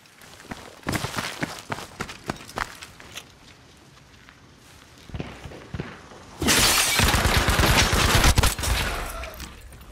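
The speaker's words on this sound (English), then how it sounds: "We heard more shooting across from us." Gunfire in Battlefield V Firestorm: scattered single shots and short bursts early, then a loud sustained close machine-gun barrage with footsteps mixed in.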